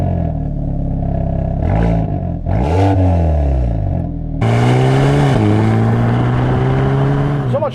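A Hyundai i30N engine revs and accelerates in rising, falling sweeps, then settles into a loud, steady higher-pitched drone close by.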